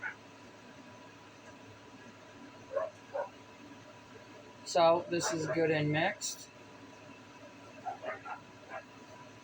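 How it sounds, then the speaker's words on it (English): A husky barking outside, heard as a few faint distant yips, then a louder burst of barking and whimpering mid-clip, then more scattered yips, all under a quiet indoor hum with a voice speaking. "If you hear barking in the background, that's my husky fighting with himself outside."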